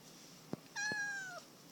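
A cat lets out a single clear, drawn-out meow close by, preceded by a couple of soft taps, in an otherwise quiet room.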